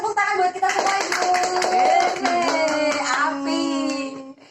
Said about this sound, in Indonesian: Tepuk tangan buat kita semua ibu.